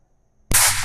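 A single loud gunshot from a gun cracks suddenly after a near-silent moment, then a bright, harsh burst of noise carries on to the end of the clip.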